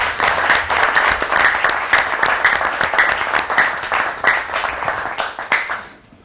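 Audience applause at a live French-language talk event, a dense burst of steady clapping that stays loud for about six seconds before fading out at the end.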